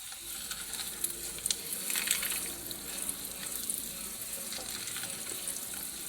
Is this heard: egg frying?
yes